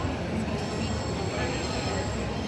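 Trains rumbling past near Flinders Street in Melbourne, a continuous rolling clatter of wheels on rails with a faint high squeal, under a person talking.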